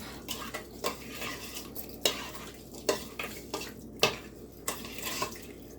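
A spoon stirs drained black beans and rice in a pot, with repeated scraping and clinking strokes at an uneven rhythm, close and fairly quiet, and no talking.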